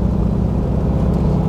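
A 1949 VW Type 18A Hebmüller four-door police Beetle pulls away, its engine giving a steady, loud low rumble that carries on without a break and without voices.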